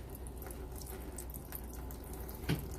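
Water drains steadily through a PVC drip-system siphon with a continuous trickling, splashing flow and a brief louder gurgle near the end.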